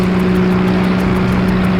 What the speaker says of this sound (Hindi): अरे सानिया, ये कोई मोटर बोट की आवाज है।